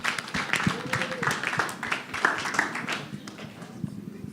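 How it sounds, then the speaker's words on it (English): A small group at a press conference for the Nigeria Prize for Creative Arts launch claps briefly, a scattered, moderately loud burst that tapers off, with a voice partly over it. "So please, a round of applause"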